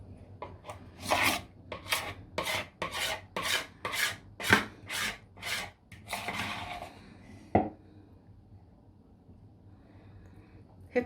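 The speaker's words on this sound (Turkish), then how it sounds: "sıyırma işini sonra yap çünkü çok ses kötü bir ses yapıyor" A rhythmic rasping scrape repeats about a dozen times in quick strokes, like a utensil scraping a bowl, then trails off into quieter handling noise.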